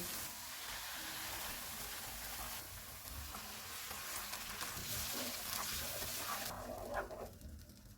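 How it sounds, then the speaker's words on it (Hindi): Ginger garlic paste sizzling as it fries in a karahi for gola kabab, a steady dense hiss that holds for the whole stretch and thins near the end, with no talk. "इसमें 1 टेबल स्पून अदरक और लहसुन का पेस्ट डालेंगे। इसको 1 मिनट तक भूनेंगे।"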